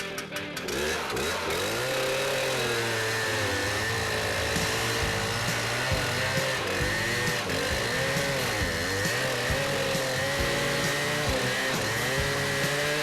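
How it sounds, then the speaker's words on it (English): GeoRipper trenching saw cutting a trench into the ground beside a sidewalk for a root barrier, with a loud, steady engine and blade whine that holds at an even level throughout. "dropping a trench directly into the ground where we can install a 12-inch root barrier material"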